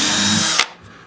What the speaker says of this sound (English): one of the key things about using a power drill is keeping enough force on the top to make it work